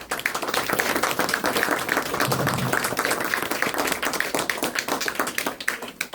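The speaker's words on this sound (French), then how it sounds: "je crois que vous pouvez vous applaudir en tout cas" A municipal campaign team applauds itself at a rally, brisk, close clapping from a group of people, steady and lively throughout with a few voices under it.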